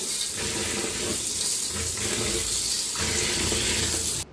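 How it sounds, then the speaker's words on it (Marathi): Rice rinsed in water for idli batter, a continuous sloshing and running-water wash with swirling surges, close and fairly loud, ending abruptly. "दोन तीन धुवून घेऊया खाली स्वच्छ धुवून घेऊया"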